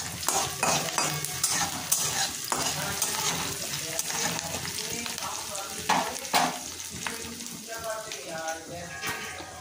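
Sliced onions fry lightly in a kadai for a breakfast vegetable curry, producing a loud, continuous sizzle broken by repeated scraping and clattering stirs, close up and without speech.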